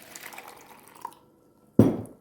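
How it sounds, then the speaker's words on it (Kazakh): Water mixed with fertilizer poured from a vessel into a plant pot for growing money-plant cuttings, a sudden close splash and gurgle after a quieter stretch of faint clinks and drips. "Қазір біз мына ыдысымызға су құямыз."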